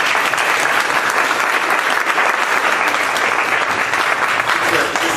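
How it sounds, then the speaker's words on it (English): An audience at a talk in a speakers series breaks into applause, a dense, steady clapping from many hands that stays loud and even for several seconds, with no voices over it. "Let's give them a quick round of applause."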